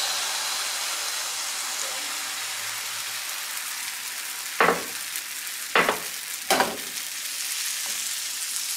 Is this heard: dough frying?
yes